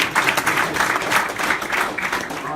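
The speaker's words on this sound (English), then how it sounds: "round of applause for you guys being here." Brief, lively applause from an audience at a launch event, with dense clapping held at an even level for a few seconds.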